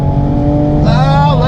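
A 2020 Toyota Supra with an automatic transmission accelerates hard on the road, its engine drone loud and steady close by, with a rising whine as it climbs through a gear change.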